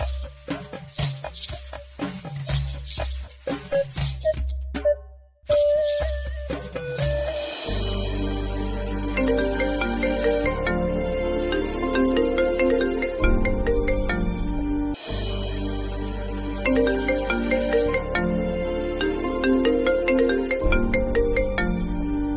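Telephone ringback after dialing in a Tamil TV serial scene, heard as a melodic electronic ringtone that starts sparse and then swells into a loud, continuous repeating tune, with no talking.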